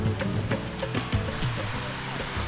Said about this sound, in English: We are arriving on the second waterfall.